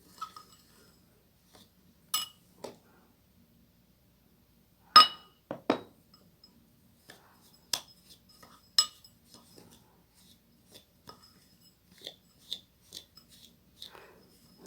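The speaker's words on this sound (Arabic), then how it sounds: "وراح اخلط كل المكونات بتاعتي" A spoon scrapes and clinks in a bowl while coffee scrub ingredients are mixed together. The sharp, scattered clicks and scrapes come irregularly and sit close with quiet gaps between them.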